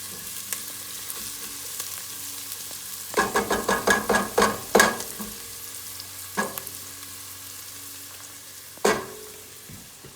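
Vegetables for tortilla soup frying in oil and being stirred, with a quiet sizzle underneath a quick run of rhythmic spoon scrapes against the pan and a few later single knocks, close and fairly loud.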